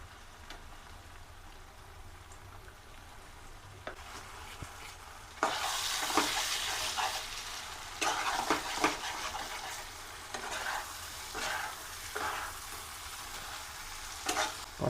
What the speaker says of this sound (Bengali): কষানো কমপ্লিট